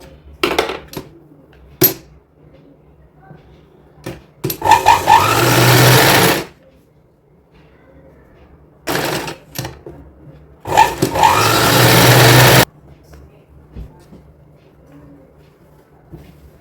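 An electric sewing machine stitches a strap for a young girl's designer dress in several loud, steady bursts of whirring, separated by quiet pauses filled with small clicks and fabric handling.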